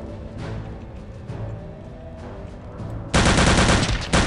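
Gunfire in Return to Castle Wolfenstein: scattered distant shots give way to a sudden loud, close burst of rapid automatic fire that continues to the end.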